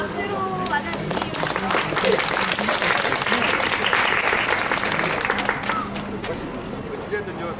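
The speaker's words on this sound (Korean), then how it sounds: "자, 박수로 맞아주세요." An outdoor audience at the 40 Steps area of Busan claps steadily for several seconds, with broad dense applause mixed with crowd babble and a faint tonal hum underneath.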